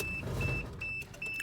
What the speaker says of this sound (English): It's a weird rattle.